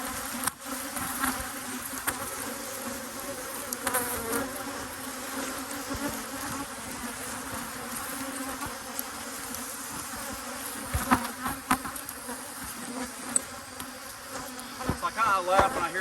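Honey bees buzz steadily around hives in a pasture apiary, a dense continuous drone with occasional louder passes close by and faint speech in the background.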